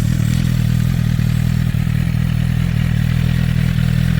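Warm motorcycle engine idling steadily after starting in neutral, a low, even rumble held close and loud for the whole stretch, with a light clatter and one small thud partway through.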